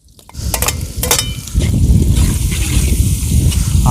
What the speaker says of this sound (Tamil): வெங்காயம் செம்மையாக வதங்கிட்டுங்க. அது கூட வந்து நறுக்கி வச்சிருக்க தக்காளி சேர்த்துக்கலாங்க.